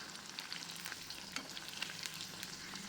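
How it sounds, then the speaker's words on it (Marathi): Gobi manchurian cauliflower balls deep-fry in oil over low heat, giving a steady, close crackling sizzle with dense small pops and no voices. "ती आतपर्यंत खरपूस भाजल्या जातील जर तुम्ही मंद आचेवर त्याला तळू दिलं तर"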